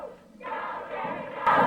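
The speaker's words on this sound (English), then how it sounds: "Go Jerry, go, shout the crowd." A wrestling crowd shouts in unison for Jerry Lawler, a short loud chant that starts abruptly and swells at the end.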